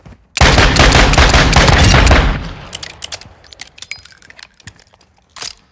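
Rapid automatic gunfire from Call of Duty Warzone DMZ erupts loudly for about two seconds, then breaks into scattered, sharp single shots and clinks that fade, with one last loud burst near the end.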